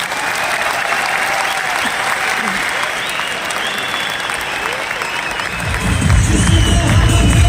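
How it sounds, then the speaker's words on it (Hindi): Audience applause at an RCM 23rd anniversary event swells, a crowd clapping steadily, growing louder and fuller toward the end. "तो न्यूट्री चार्ज के लिए एक बार तालियां बजाएंगे।"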